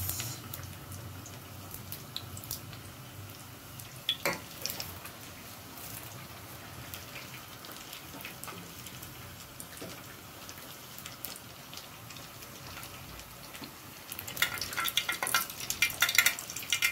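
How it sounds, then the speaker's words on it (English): Faint, low crackle and scattered pops of oil heating in a sufuria before potatoes and garlic go in, building to denser spitting toward the end. "We wait for the oil to heat."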